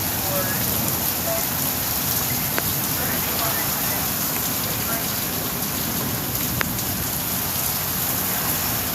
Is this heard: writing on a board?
no